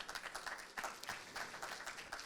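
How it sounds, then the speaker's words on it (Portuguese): Audience at a biotech health summit applauding a panelist's arrival, a fairly faint but steady wash of many hands clapping throughout. "o senhor Luiz Felipe Walter, da Biomed Hub, com os nossos aplausos também a presença"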